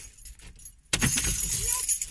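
Keys jangle close by after a quiet opening, a sudden burst of metallic clinking that keeps rattling irregularly, with a faint voice in the background.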